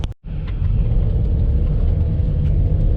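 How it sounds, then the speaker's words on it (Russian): A car drives along 50 Let Oktyabrya street in a city in Yakutia. A steady, loud low rumble of engine and tyres fills the cabin with no break apart from a short dip at the very start. "это мы сейчас едем по улице 50 лет октября"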